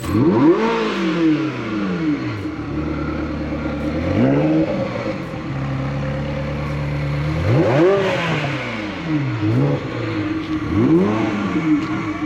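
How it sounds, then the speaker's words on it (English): An engine revs repeatedly, pitch sweeping up and dropping back in several loud bursts, with a deep rumbling idle between them and no talking. "rev the engines for them too, so they got to rev the engines"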